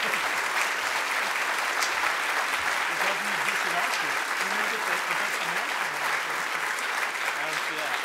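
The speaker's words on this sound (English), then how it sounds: "Let's take a moment to applaud for all of these amazing faculty that we have recognized." Sustained audience applause fills a university faculty awards assembly, a dense, even wash of clapping that holds steady throughout, with a voice audible underneath partway through.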